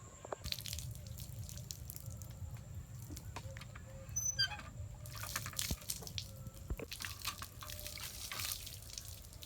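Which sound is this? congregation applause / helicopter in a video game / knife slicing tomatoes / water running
water running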